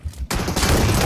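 Dense bursts of gunfire in PUBG Mobile during a national championship match, a loud rapid fusillade that starts abruptly after a brief quiet moment and keeps going.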